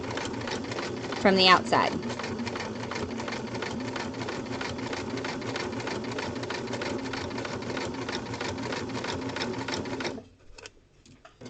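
A sewing machine stitches a fabric pocket in a steady, continuous whir that runs for about ten seconds, then stops, with brief speech near the start.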